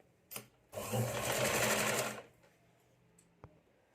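A sewing machine stitches a finishing line along the folded-in lining strip of a katori blouse, a single steady run of about a second and a half between short bursts, close and loud with no talk.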